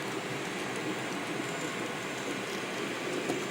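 A long model coal train of more than eighty cars rolls along a layout, giving a steady, faint, even rumble of wheels on track with no clear breaks.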